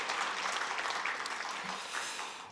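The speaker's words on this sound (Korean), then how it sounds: "우리 대코팀 위해서 박수 한번 쳐주시겠습니까?" A Korean church congregation at Sunday worship applauds its volunteer team, a brief burst of full, close clapping that holds steady and then tapers slightly at the end.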